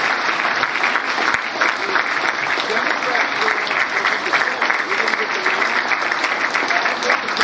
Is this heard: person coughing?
no